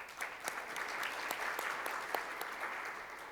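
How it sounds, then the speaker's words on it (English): Polite round of applause from a conference audience welcoming an IDB division chief, steady scattered clapping at moderate distance with no voices. "Let's welcome him with a big round of applause"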